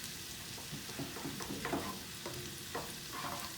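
Butter melts and sizzles in a frying pan while shrimp are cooked with salt and pepper, a soft steady hiss with faint scraping stirs at irregular intervals.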